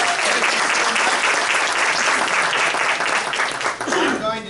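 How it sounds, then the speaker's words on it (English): Sustained audience applause fills a fundraising academy session, dense and steady, with a voice coming in near the end. "So big round of applause for Raylene."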